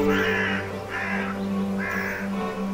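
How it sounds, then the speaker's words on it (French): Dying crow in the video game The Last Door giving three harsh, drawn-out caws with pauses between, loud and close over a steady low droning background, with no talk. "Un corbeau agonise au milieu d'une mer de sang."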